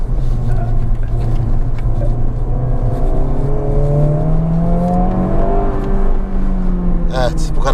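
A Honda Civic Type R engine drones steadily while driving, its pitch rising and falling through gear changes, loud and close throughout, with people talking over it inside the car.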